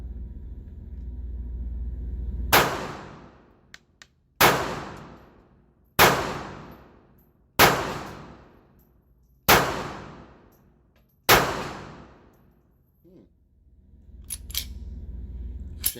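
A Ruger LCP Series 1 pistol fires six loud, sharp shots at a target about 15 feet away, evenly spaced roughly every second and a half, each cracking and then ringing away, with no talking.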